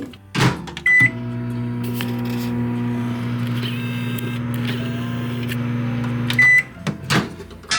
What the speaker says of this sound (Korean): 이거는 전자레인지 5초씩 좀 돌려줘가지고 약간 말랑하게 만들어줄게요